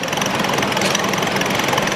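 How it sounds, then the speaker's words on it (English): A restored 1955 Allis-Chalmers Model G tractor engine at a county fair tractor parade, a steady close-up mechanical chugging and rattling that holds without pause and with no voices over it. "is a 1955 Alice Chalmers Model G, owned by Jason and Heather Shank of Morrison, driven by Jason"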